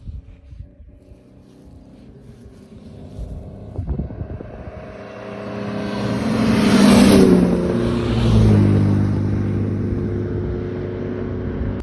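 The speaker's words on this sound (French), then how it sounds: "Là, on a une Ferrari SWB qui va arriver." A classic Ferrari SWB arrives at a Tour Auto 2025 classic rally stage in the Côte-d'Or, its engine note swelling from a distant drone into a loud, rising roar as it draws near, then holding steady, with no one talking.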